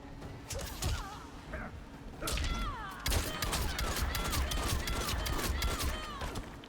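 Erron Black's guns fire in the video game Mortal Kombat 11, sharp shots in quick clusters among fight effects and clanks. A voice speaks at times under the moderately loud gunfire.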